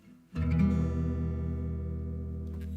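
One strummed acoustic guitar chord, out of tune, rings out loud and sustained, its clashing tones slightly sour and unresolved as it slowly fades.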